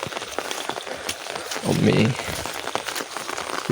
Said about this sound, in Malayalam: മഴ പെയ്തുകൊണ്ട് നിൽക്കുന്നുണ്ട്